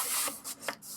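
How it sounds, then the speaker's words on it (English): Paper being scored for a trifold folio, quiet short rubbing scrapes in a few brief strokes, close and alone. "put it in here, and you're going to score 1/2 inch"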